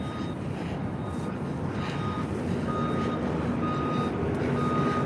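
Truck reversing beeps on a busy Brooklyn city street near the Dumbo waterfront, steady repeating tones over constant traffic and urban rumble, moderately distant.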